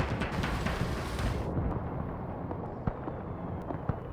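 Gunfire and explosions in the WWII game Gates of Hell, a dense, loud, continuous rumble of distant shooting and blasts with occasional sharper cracks and no talking.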